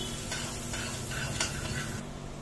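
Onions being stirred as they fry in a pan for egg masala curry, a continuous sizzle with scraping stirring strokes, close and steady.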